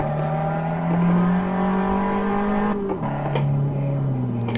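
Abarth 500 SS engine revving hard in Assetto Corsa, a loud sustained high-revving drone that climbs in pitch, drops sharply at a gear change and climbs again, steady and close with no talk.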